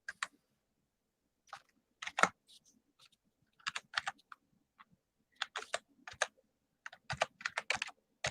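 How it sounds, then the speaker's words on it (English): Computer keyboard typing in quick, irregular bursts of clicks separated by short pauses, close and fairly clear, with no talking. "And I'm actually typing my email up in here for you guys as well."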